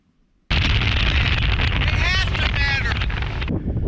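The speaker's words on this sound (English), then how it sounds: "Windy." Steady, loud wind buffeting the microphone with a low rumble, with faint whistling tones in the middle before it eases slightly at the end.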